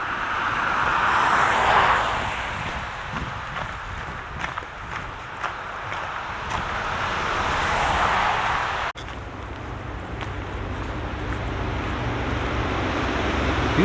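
Steady road traffic rumble carries across a park beside Route 30 near Caledonia on the Appalachian Trail, a continuous broadband wash of passing vehicles at moderate distance, swelling slightly as cars go by, with no talking.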